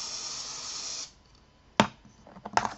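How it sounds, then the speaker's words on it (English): A hissing aerosol spray sounds for about a second, then stops, followed by a few small clicks and taps. "And spray again."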